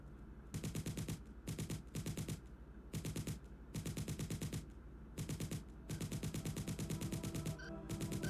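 Bursts of automatic gunfire from multiple guns, rapid loud rattling volleys separated by short pauses, continuous and close throughout a shootout.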